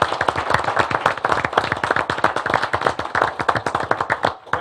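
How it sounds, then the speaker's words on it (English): Audience at a county board of education business meeting giving a round of applause, dense steady hand clapping close to the microphone, fading slightly near the end with no talk. "Please give him another round of applause."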